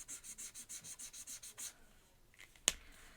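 Spectrum Noir alcohol marker rubbed back and forth on paper in about a dozen quick, rhythmic close strokes, followed by a short pause and a single sharp tap.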